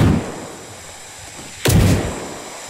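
Enemy gunfire in the Generation Zero game, two sharp booming shots with a quiet gap between them, the second loud and close with a rumbling tail.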